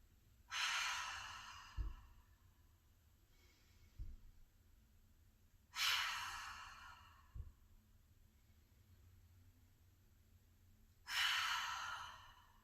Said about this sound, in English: we're going to inhale through the nose and then exhale through the mouth with an HA sound